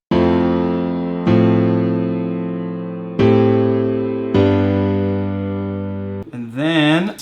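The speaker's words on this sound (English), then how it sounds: "I think I started just in FL keys with this chord progression" Four sustained piano-like chords from an FL Keys plugin in FL Studio, each struck and left to decay, followed by a brief warbling synth tone, with no voices.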